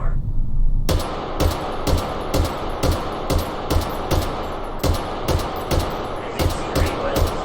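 A rifle fires 7.62x39 rounds in a steady series of about a dozen loud, close shots spaced roughly half a second apart, each a sharp crack with a booming tail, outdoors on a range.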